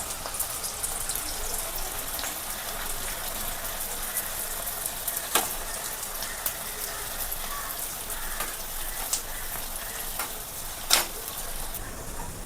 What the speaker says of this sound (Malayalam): നന്നായിട്ട് നമുക്ക് വറുത്ത് പോരാം